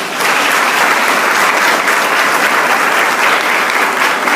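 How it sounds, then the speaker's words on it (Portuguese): Church congregation applauding after a Bible reading, loud dense clapping filling the space evenly from start to finish, with no speech over it. "Vamos aplaudir a palavra de Deus"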